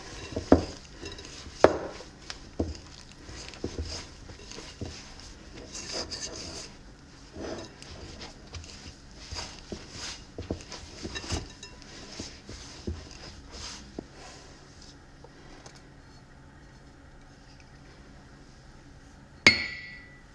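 Flour is stirred into pretzel dough in a bowl, giving rough scraping and rubbing strokes with occasional clinks against the bowl, close and fairly quiet, easing off near the end before one sharp knock.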